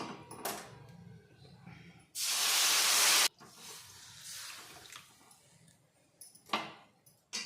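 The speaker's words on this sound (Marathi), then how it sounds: "त्यामध्ये गरम केलेलं पाणी कोमट केलेलं पाणी त्याच पात्राने" Warm water poured into a pan of hot roasted bhagar (barnyard millet) sends up a loud burst of hissing steam lasting about a second, with quieter pan clatter and soft handling noises before and after.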